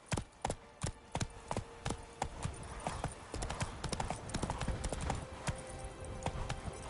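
Roach, a horse in The Witcher 3: Wild Hunt, galloping with quick, rhythmic hoof clops that stay close and clear throughout, briefly joined by a faint whinny.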